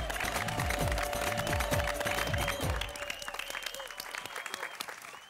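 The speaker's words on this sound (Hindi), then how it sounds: "आइए दुनिया भर के बच्चों के लिए हम एक बार जोरदार तालियां बजाते हैं।" Loud, dense audience applause for children in a TV sitcom scene, with music underneath for the first half; the clapping continues, somewhat quieter, after the music stops.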